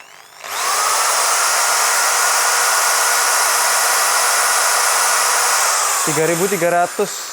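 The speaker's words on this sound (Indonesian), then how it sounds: "Untuk sebuah bor 200 ribuan. RPM langsung kita tes." A Dongcheng DJZ10-10 electric drill spins up and runs loud and steady at full speed for several seconds, with a voice briefly heard near the end.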